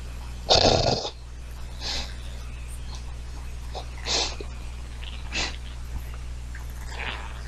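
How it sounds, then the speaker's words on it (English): Comic dog noises, a sharp snort or sneeze-like burst followed by several softer snuffling, huffing bursts spaced a second or two apart, fairly close over a faint steady hum. "Funny dog, but no."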